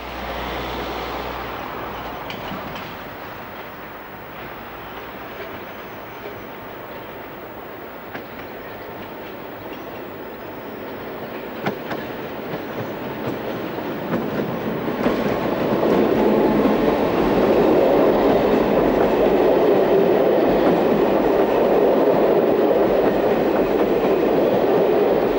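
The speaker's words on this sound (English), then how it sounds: "Here, 15027 heads a morning train from Lille on 25th July 1994." Locomotive 15027 hauling a morning train from Lille near a junction, a steady rumbling roll with faint clicks that swells louder over the last ten seconds as the train draws close.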